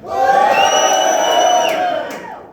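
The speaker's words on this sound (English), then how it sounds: "So, men, give me a cheer!" A large group of men in a Sydney comedy club audience, prompted by the comedian, cheers and shouts together in one sustained roar, loud and close, swelling and then fading out.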